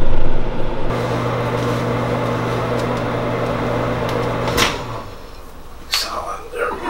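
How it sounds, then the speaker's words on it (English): A microwave oven heats food for a few minutes, a steady humming drone running for nearly five seconds and then stopping, followed by clicks and handling noises; a person talks over it. "I usually put this in the microwave for"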